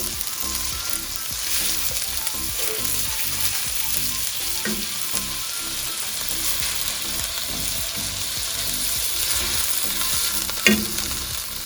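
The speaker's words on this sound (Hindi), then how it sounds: "अब हमारे फ्राइड राइस के लिए हमने चिकन फ्राई हो रही है।" Chicken pieces fry in a hot pan for fried rice. A continuous close sizzle carries on throughout, with occasional scraping and stirring clatter.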